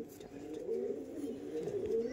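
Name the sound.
Andhra pigeon cooing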